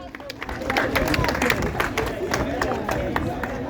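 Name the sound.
audience applause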